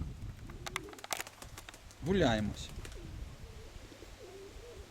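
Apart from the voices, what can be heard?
pigeons cooing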